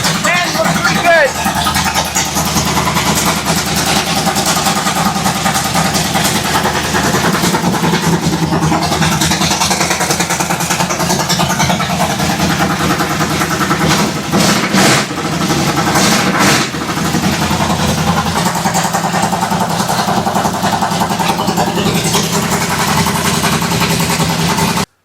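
A 503 cubic inch big block Ford gasser engine idles loudly and roughly up close, its choppy rumble steady with a few small swells in throttle across the span.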